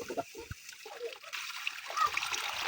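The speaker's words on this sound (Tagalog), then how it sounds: "Damihan natin ng tubig. Kasi magsasabaw tayo." Water poured into a cooking pot for soup, a short splash followed by a steady, fairly faint trickle and slosh, with a voice briefly heard.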